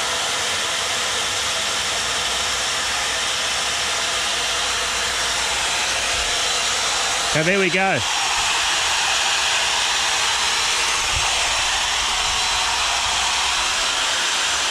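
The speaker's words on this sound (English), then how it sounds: "That's two drills going and the kettle going." Electric kettle heating to a boil while two power drills run continuously, giving a steady loud broadband hiss and whine, with a brief tonal burst midway and a short spoken phrase near the start.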